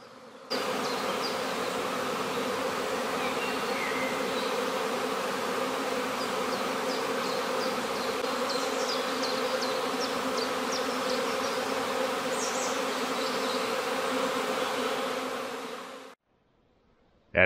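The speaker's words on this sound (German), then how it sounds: "Hört ihr die Bienen, die da am Summen sind da oben?" A steady, dense hum of many bees buzzing overhead from a nest in a tree, continuous and even for the whole stretch, with no voices.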